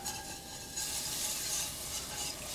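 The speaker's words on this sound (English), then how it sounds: "When your roux is cooked, turn up the heat a little because we're adding cold milk. I'm going to whisk while I do it." A whisk stirs cold milk into a hot cooked roux in a pan for sauce, a soft continuous scraping and gentle sizzle, quiet and close with no talking.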